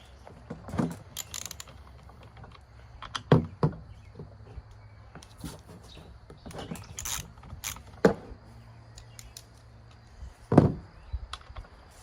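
Hand ratchet with a 1/2 inch socket loosening the bar nuts on a chainsaw, heard as a few sparse, fairly quiet metallic clicks and knocks spread over a low background, with no talking.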